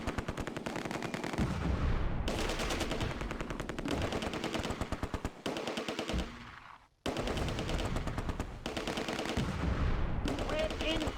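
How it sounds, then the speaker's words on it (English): Mortar counter-battery fire in the Close Combat war game, set among buildings near Arnhem Bridge, comes as dense, rapid, loud bursts of gunfire and explosions that continue almost without pause, broken by one brief gap. "Both mortars switch to counter-battery fire against the other Granatwerfer between the buildings."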